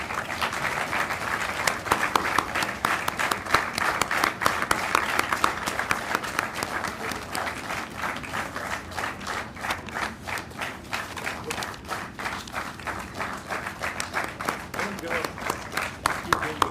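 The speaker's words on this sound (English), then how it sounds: "Ladies and gentlemen, a big round of applause for all the participants" An audience at a university Independence Day event applauds prize winners with sustained, fairly loud clapping that turns into distinct rhythmic claps partway through, with people talking faintly underneath.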